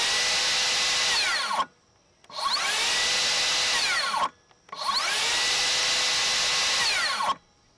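A Makita 36V rear handle circular saw spins up with a loud high whine three times, each run ending in an abrupt electronic brake stop and a short silence before the next start.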